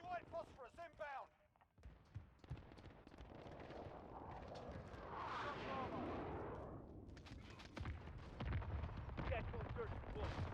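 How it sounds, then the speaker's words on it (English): A white phosphorus strike erupts in Call of Duty Warzone, a long roaring, crackling blast that swells and fades over several seconds amid scattered gunfire, with a brief game voice at the start. "Enemy white phosphorus inbound."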